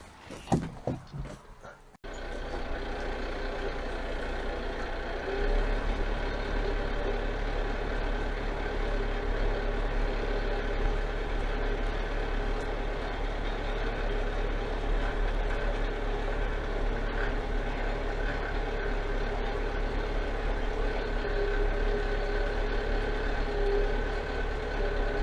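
A John Deere RX 7320 tractor runs steadily throughout at a constant engine drone, loud and close, after a brief burst of clattering at the start, with no talk over it.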